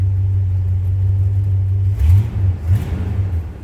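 A 1964 Oldsmobile Cutlass Convertible engine idles with a steady low hum, then revs up briefly twice, the pitch rising and falling, close by with no talking.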